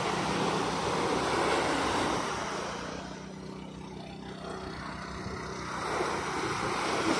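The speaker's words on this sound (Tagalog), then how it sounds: "Medyo maliliit kasi alon dito" Small sea waves wash along the shore at Naic, Cavite, under a steady rush of wind. The surf swells and eases gently over several seconds, and nobody speaks.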